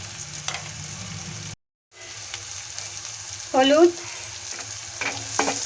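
Onions fry in a pan to soften, with salt added: a steady sizzle close by, broken by a short silence and a clatter of stirring, with a voice saying a word.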